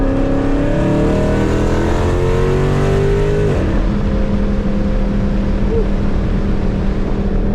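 A car engine with a custom comp cam and headers revs hard with a rough, lopey idle, pitch climbing steadily before dropping off sharply and settling into a loud, throaty rumble.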